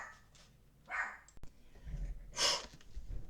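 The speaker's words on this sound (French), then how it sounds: "là il y a mes chiens qui s'excitent un petit peu" Dogs bark excitedly indoors in a few sharp, separate bursts, one loud bark near the end standing out over a quiet room, with no talking.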